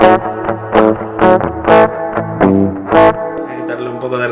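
Electric guitar with high-gain pickups played through a Fender Acoustasonic 40 amp with slight crunch and reverb, loud strummed chords repeating in a steady rhythm.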